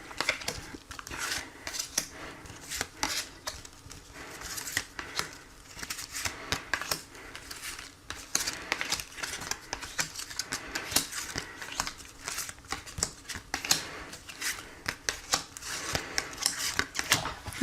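Tarot cards are shuffled and drawn, with dense, irregular papery riffles, flicks and soft slaps of card stock, close and fairly quiet, continuing in uneven bursts without talk.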